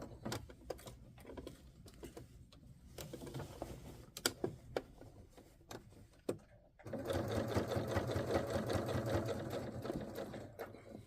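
A sewing machine runs in short bursts with pauses, then settles into a long steady run while back stitching along the seam of a garment facing, with the seams pressed open.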